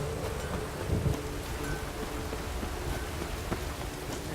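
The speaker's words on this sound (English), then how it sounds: "It's really raining now." Steady rain hisses throughout in the video game The Witcher 3, with a low rumble of thunder swelling briefly near the start beneath the downpour.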